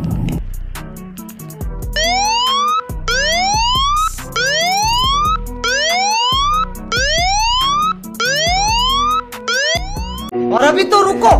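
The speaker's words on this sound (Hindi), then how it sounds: "तो उसमें सायरन बज जाएगा, पुलिस वाला सायरन।" A loud electronic police siren from an Android phone app repeatedly sweeps upward in a wailing pattern, cycling several times with brief breaks, nearby and piercing.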